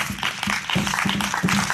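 A church congregation at an evening healing prayer service in Grand-Bassam cheers and applauds for Jesus, a steady wash of clapping and crowd noise in repeated surging bursts throughout.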